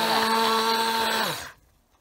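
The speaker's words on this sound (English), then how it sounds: "So I'm just going to take the blender in there." An immersion blender whirs through potato leek soup with a loud, steady motor whine that winds down and stops near the end, leaving near silence.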